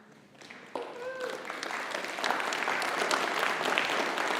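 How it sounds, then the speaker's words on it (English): Applause from a school community crowd at an awards ceremony, building from quiet into steady clapping after a brief voice, continuing evenly to the end. "Sorry, I elicited a little extra applause there."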